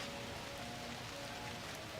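Steady rain falls across an outdoor football ground during a Metro Premier match, a dense, even hiss with no talk over it.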